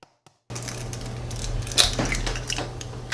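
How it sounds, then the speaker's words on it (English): A single egg cracked into a measuring cup: a short sharp crack and tap against the rim, then a faint wet slide as the contents drop, heard close and quiet, with no talking. "In a measuring cup, I'm going to be cracking 1 egg"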